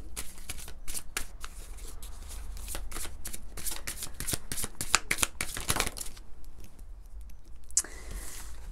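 Oracle cards shuffled by hand in a steady riffling flutter of crisp papery snaps, close and continuous, easing off near the end.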